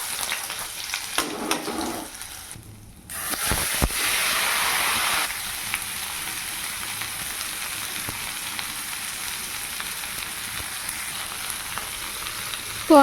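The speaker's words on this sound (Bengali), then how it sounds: "তো সয়াবিন ভাজা করাতেই তেল দিয়ে দিলাম, ফোড়নে দিলাম জিরে, তেজপাতা" Cumin seeds and bay leaves fry in hot soybean oil for tempering, with a loud, steady sizzle close up and a brief stronger burst of hissing partway through.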